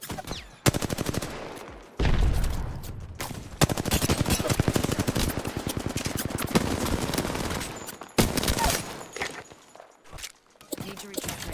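Gunfire from a sniper rifle in the video game Apex Legends, with loud sharp shots and dense bursts of firing, footstep-like clatter between volleys and a final stretch of scattered, quieter impacts.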